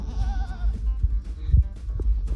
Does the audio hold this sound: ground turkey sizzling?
no